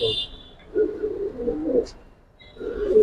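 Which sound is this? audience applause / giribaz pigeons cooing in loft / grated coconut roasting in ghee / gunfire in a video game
giribaz pigeons cooing in loft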